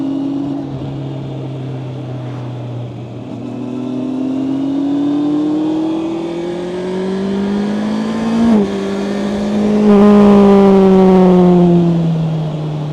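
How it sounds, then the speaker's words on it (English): A Honda CBR 650R E-Clutch motorcycle with a 650cc inline-four engine idles, then the throttle is blipped and it accelerates away, engine pitch climbing steadily through gears, loud and close throughout. "you just do a blip of the throttle and you're away"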